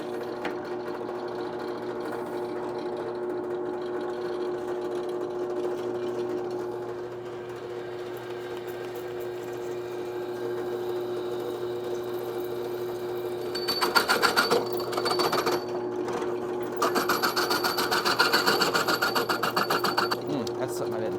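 A drill boring into metal for a ring, with the bit also catching a vise, makes a steady whirring hum that grows louder and rougher with grinding bursts toward the end, close by.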